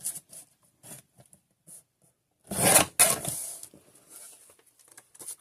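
A strip is cut from the top of a sheet of paper for a mini junk journal: faint scattered taps and handling, then a loud rasping drag of the cut in two close bursts, followed by softer paper rustling.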